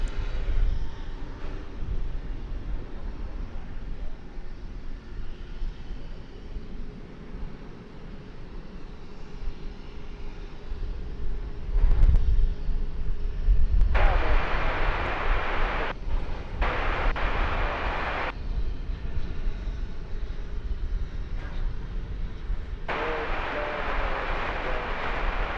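A Frontier airliner departs DFW Airport, its engines giving a continuous broad roar that grows and swells in strong bursts, heard from a distance over steady background rumble.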